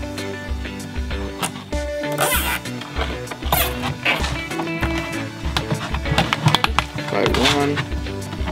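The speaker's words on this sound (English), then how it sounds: "we're basically gonna tie it together with zip ties" Zip ties are pulled tight to bind a homemade fish trap, a series of quick ratcheting zips heard up close over background music, with a person talking.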